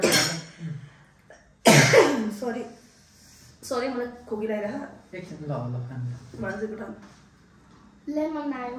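A single sharp cough bursts out during a family tongue-twister game, loud and brief between stretches of nearby talking and laughter.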